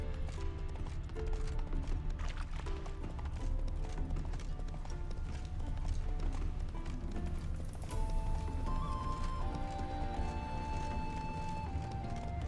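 Rapid hoofbeats clip-clop in a steady galloping rhythm in The Witcher 3: Wild Hunt, with game music and effects layered over them.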